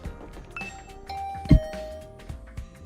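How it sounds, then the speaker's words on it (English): A two-tone doorbell chime rings once at a character's room door in the visual novel game The Hundred Line -Last Defense Academy-, clear and mid-loud over soft background game music. "I rang the doorbell to Tsubasa's room"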